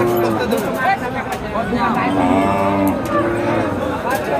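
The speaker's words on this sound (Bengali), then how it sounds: "এই পাশে প্রচুর গরু রয়েছে" Cattle at a busy weekly livestock market with cows and calves for sale, repeated loud moos rising over a crowd's chatter and nearby talking.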